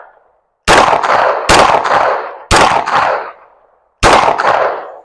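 A Glock 34 Gen 4 pistol fired outdoors at a range, four loud sharp shots spaced roughly a second apart, each with a long decaying echo, close and with no voices.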